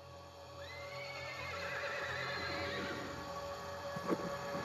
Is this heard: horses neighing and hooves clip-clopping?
yes